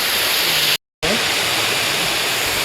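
An unnamed waterfall on a day trip to mountain temples, with a steady, loud, broadband roar of rushing water filling the clip, briefly cut out by a short silent gap before continuing unchanged, with a faint voice beneath the roar.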